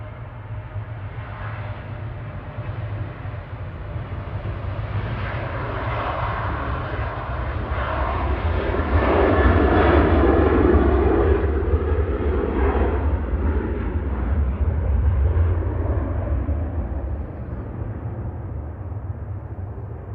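An airliner on its takeoff roll at Manchester Airport, bound for Grenoble, sends out a loud jet-engine roar. It swells to a peak around the middle and then slowly fades as it pulls away, with a constant low rumble underneath.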